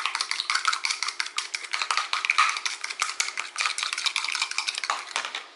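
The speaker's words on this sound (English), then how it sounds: "My egg in there. Just beat it up a little bit." A utensil beats an egg against a dish, fast and steady clinking and scraping that runs without a break and stays close and loud.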